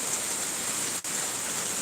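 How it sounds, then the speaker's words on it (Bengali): Heavy rain pours down steadily in a broad, even hiss, with one brief dip near the middle. "এইখানে জল পড়ছে ঝপঝপ ঝপঝপ ঝপঝপ ঝপঝপ করে জল পড়ছে"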